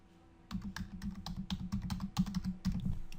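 Rapid, irregular clatter of keys on a computer keyboard, close and fairly loud after a brief quiet start, with no voices over it.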